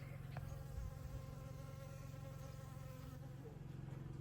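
Bees gathering pollen from buckhorn plantain buzz steadily in a continuous, droning hum, with soft overlapping wingbeats that hold an even level throughout and no voices.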